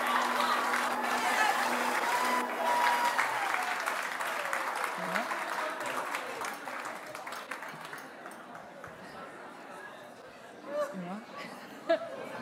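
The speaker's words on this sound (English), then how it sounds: "One more round of applause, please, for our Sharelle McMahon medalist" Steady applause from a crowd at the Sharelle McMahon Medal 2023 presentation for medalist Liz Watson, with chatter and some laughter mixed in. It fades gradually toward the end, leaving thinner clapping and murmurs.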